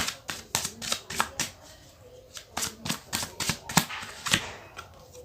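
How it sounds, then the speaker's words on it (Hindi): Tarot cards are shuffled in a quick series of crisp riffling bursts, close and clear, with short pauses between the clusters and no voices. "जब तक मैं कार्ड शफल करूं"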